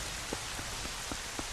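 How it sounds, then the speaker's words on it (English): Rain falls steadily in Zelda: Twilight Princess as a dense, even hiss, with a few faint droplet ticks spaced through it and no voices. "But I gotta admit, I love the rain."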